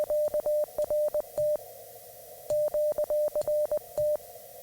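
Morse code CW sending QRT: a clean, steady tone keyed in crisp long and short beeps, two bursts of dits and dahs separated by a brief pause, alone and fairly loud.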